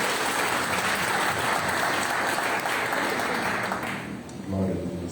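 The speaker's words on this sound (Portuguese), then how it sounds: "Você pode aplaudir o Senhor mais uma vez?" A church congregation at a Baptist service applauds for a sustained wash of clapping that fades near the end, with voices mixed into the crowd noise.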